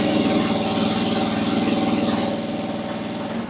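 A 1-ton Chinese mini digger runs its engine at low RPM during hydraulic pressure testing, a loud, steady, close throbbing drone that eases slightly toward the end.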